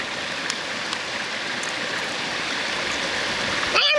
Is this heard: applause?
no